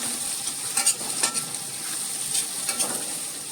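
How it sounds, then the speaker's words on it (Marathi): Finely chopped carrots and half a bowl of peas sautéed in a pan, a quiet steady sizzle with a few light stirring clicks and scrapes, close by. "हे बारीक चिरलेलं गाजर आणि हे अर्धी वाटी मटार हे आपण आतमध्ये घालायचे आणि व्यवस्थित हे परतून घ्यायचे आहेत"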